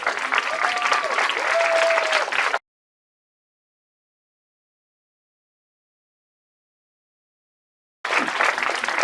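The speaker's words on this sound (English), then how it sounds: "Let's give them one more round of applause." A crowd applauds loudly, then a long stretch of silence, before the clapping returns at full strength.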